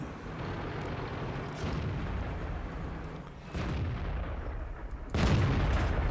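Artillery shells strike a Japanese Heavy Tank No. VI Tiger in World of Tanks, landing as three heavy booming impacts spaced a couple of seconds apart over a continuous low rumble of battle noise.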